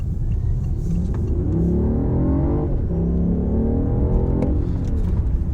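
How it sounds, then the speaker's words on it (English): A BMW i8 revs up hard, its synthetic engine sound piped through the car's speakers, the rising tone climbing in steady sweeps through the gears, loud and close throughout. "They are piping the engine noise through the speakers of the car"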